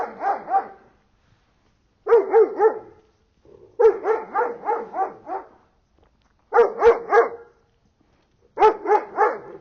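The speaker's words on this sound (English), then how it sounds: "A dog is supposed to bark, right?" A dog barks repeatedly in clustered bursts of three to six sharp barks separated by short pauses, close and loud with no talking.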